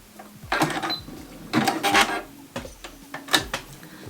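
A sewing machine runs in short bursts of rapid stitching with pauses between, finishing the final stitches of a summer dress, close and fairly loud with faint clicks and no talk.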